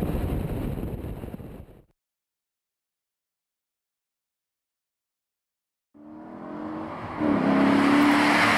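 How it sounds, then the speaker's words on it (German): Maserati GranTurismo MC Stradale with a fast-revving V8, heard loud and close while driving, engine building and rising in pitch after a stretch of silence, with wind noise over the microphone. "Hart gefedert zeigt der Stradale mit seinem blitzschnell hochdrehenden V8 sofort Charakter."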